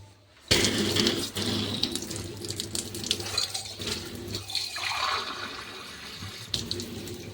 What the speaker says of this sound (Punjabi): ਥੋੜਾ ਜਿਹਾ ਪਾਣੀ ਹੋਰ ਪਾ ਹੀ ਲਈਏ